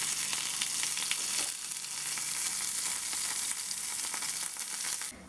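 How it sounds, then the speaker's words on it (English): Bacon-wrapped scallops sizzle in a frying pan, a steady close crackle and hiss with brief spits and pops running throughout. "So I've just finished pan frying them"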